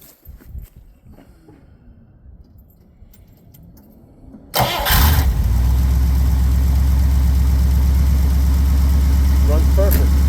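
A classic low-mileage Dodge car, cold and not yet warmed up, cranks briefly and fires, then settles into a loud, steady idle, with quiet background noise before the start.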